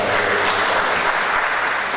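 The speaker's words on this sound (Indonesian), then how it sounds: "Tepuk tangan untuk para dokter baru." Applause for new dentists at a dental school oath-taking ceremony, a continuous wash of hands from a large seated audience, steady and moderately loud.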